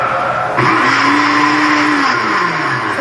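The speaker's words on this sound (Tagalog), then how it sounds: "pagkalagay mo ng tubig tsaka ng flavor, i-blender mo muna" A loud, steady motorized whir runs throughout, rising slightly in intensity after a moment, as a kitchen blender spins at high speed, blending water and flavoring for a creamy pandan drink.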